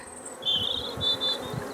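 Honey bees buzz inside an opened hive at a farm, a moderately close drone that swells and fades over a few seconds, with faint handling noises below it and no voices.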